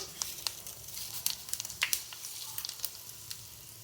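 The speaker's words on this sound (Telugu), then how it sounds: "ఆయిల్ వేడయింది. ఇప్పుడు జీలకర్ర, కొన్ని మెంతులు వేసుకోవాలి, కరివేపాకు." Cumin seeds, fenugreek and curry leaves sizzle and crackle in hot oil in a wide pan, with a steady fry broken by sharp pops and spits, fairly close and on its own.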